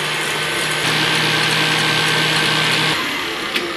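Electric mixer whisking egg whites with sugar toward stiff peaks, a steady motor whir with a constant hum, close and continuous, easing off near the end.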